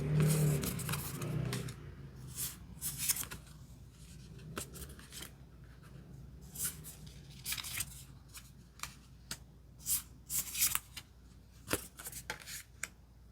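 Tarot cards are shuffled and picked out one by one, making soft riffling swishes and a string of sharp card snaps and taps at uneven intervals, close and quiet, with no one talking.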